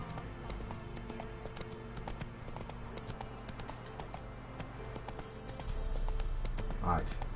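Hoofbeats of Roach, Geralt's horse in The Witcher 3: Wild Hunt, galloping at a steady rhythmic clip-clop under continuous game background sound, growing louder and fuller near the end.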